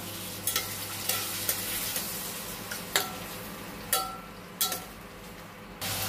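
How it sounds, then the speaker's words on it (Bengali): Spice paste mixed with water and a large chopped tomato being sautéed in a pan, a quiet continuous sizzle broken by repeated light clacks of a spoon against the pan as it is stirred, no voices. "এখানে একটা বড় টমেটো কুচনো দিয়ে দিলাম। দিয়ে মশলাটা ভালো করে কষে নেব।"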